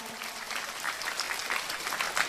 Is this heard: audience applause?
yes